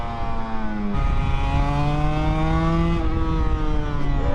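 A two-stroke motorcycle engine, a Honda NSR250 or Suzuki RGV250, holds a steady, buzzy high-pitched drone with a slight lift in revs about a second in, loud and continuous with no voices.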